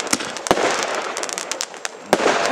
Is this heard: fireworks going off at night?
yes